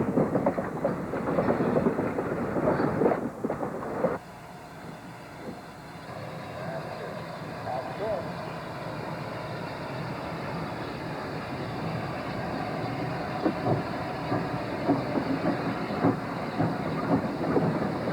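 A railroad car on the Northwestern Pacific Railroad rumbles steadily along the track at a park picnic, a continuous low roll with a few clanks early on and some background noise throughout.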